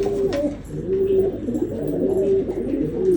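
A Ferozpuri pigeon coos repeatedly nearby, its soft throaty calls rising and falling in a steady rhythm over a low background hum, with no talk.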